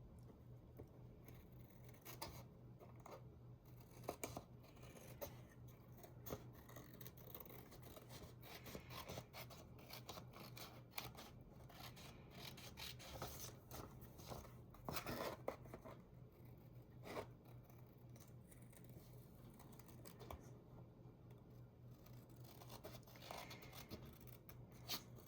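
Paper trimmed off a handmade gatefold greeting card, giving soft, steady scraping and snipping strokes up close with a few sharper cuts, quiet and continuous with no talking.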